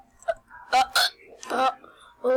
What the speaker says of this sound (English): All my hiccups.